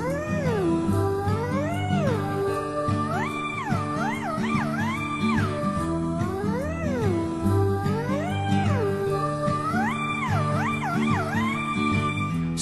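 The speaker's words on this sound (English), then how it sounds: "Oh no, it's a black cat." A black cat meows repeatedly in a rising and falling pattern over a continuous, loud backing of spooky Halloween music; no talking.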